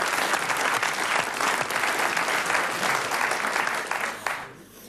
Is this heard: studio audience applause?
yes